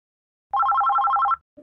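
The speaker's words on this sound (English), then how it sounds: "The phone is ringing, ring, ring, ring." Telephone bell rings in a rapid, steady trill for about a second, loud and close, followed by a brief softer tone.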